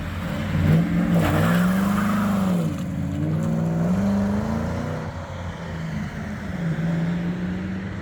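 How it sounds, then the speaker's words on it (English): Manual-swapped Ford Crown Victoria driving on the road, engine note rising and falling through gear changes, steady and close from inside the car. "let's go ahead and take this manual swap Crown Vic on the road."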